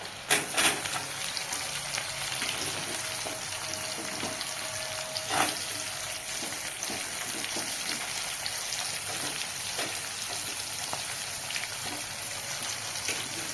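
Chopped onions for a gravy fry in a pan with a steady, fairly quiet hiss, a few sharper crackles and pops breaking through early on.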